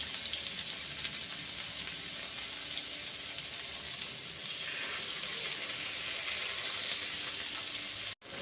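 Sardines fry in a non-stick pan over a medium flame, giving a steady, dense sizzle of hot oil that crackles evenly and close-up, running unbroken until a sudden cut at the end.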